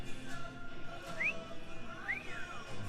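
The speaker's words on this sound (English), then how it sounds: "it's very difficult to whistle in a mask" A person wearing a face mask whistles a few short rising notes, fairly breathy and muffled, with faint background murmur at an evening food event at Knott's.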